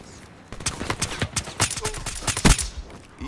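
Game gunfire from a weapon in Call of Duty: Black Ops 3, a rapid string of sharp shots in quick bursts mixed with other game noise, fairly close.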